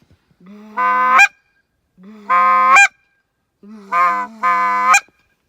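Three bursts of loud goose-like honking from a handheld goose call, each a rising call ending on a sharp high note, produced close up with short silences between.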